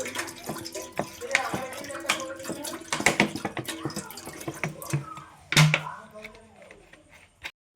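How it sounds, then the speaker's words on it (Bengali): Tap water runs and splashes into a basin while water is gathered to make sugar syrup for boondi, with clattering and a few drips, under the hum of a home kitchen. "বোঁদের সিরাটা বানানোর জন্য জল নিয়ে নিচ্ছি গামলাতে পরিমাণ মতন"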